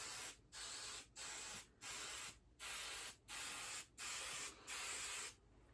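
Spray starch misted onto a dress uniform while ironing, heard as a run of eight short, even hissing bursts with brief gaps between them, close and fairly loud, no talking.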